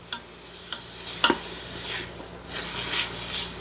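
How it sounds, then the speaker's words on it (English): Beef frying in a thin-coated metal pan in a Ninja Foodi on high heat, a soft steady sizzle with occasional sharp clicks and scrapes as a wooden or nylon utensil stirs it. "All right, we're sizzling now."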